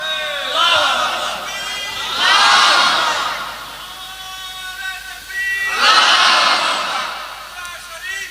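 A large crowd at a religious sermon gathering shouts takbir in response to a preacher, with two or three loud collective roars of many voices, each swelling and fading, in a reverberant open space.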